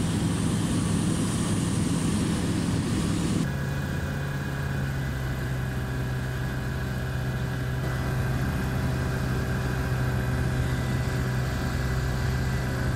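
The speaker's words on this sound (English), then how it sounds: "We did a standard unmanned joining procedure and landed on runway 35." A light propeller aircraft landing on a gravel runway, with a steady droning engine and propeller that shifts to a lower, smoother tone partway through, loud and close.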